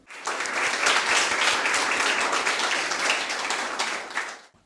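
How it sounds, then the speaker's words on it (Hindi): An audience at a panel discussion at New Holy Faith Public School, Najafgarh, breaks into a dense burst of applause that swells quickly, holds steady for several seconds, then fades out. "मुझे उम्मीद है कि आप उनका स्वागत ताली बजाकर करेंगे"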